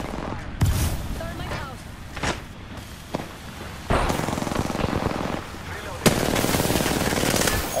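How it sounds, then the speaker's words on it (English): Rapid bursts of automatic gunfire in a video game shooter, loud and close, rattling in sustained volleys with single sharp shots between, while a voice talks over parts of it. "They're shooting at me!"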